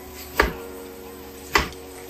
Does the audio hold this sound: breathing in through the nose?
no